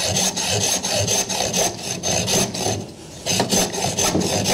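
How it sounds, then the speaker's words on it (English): A saw cuts through the composite fiberglass shaft of a new trolling motor in quick, rhythmic rasping back-and-forth strokes, loud and close, with a brief pause mid-way. "Seeing a brand new motor getting cut in half. This is a composite fiberglass mixture in there, so it's not too hard to cut."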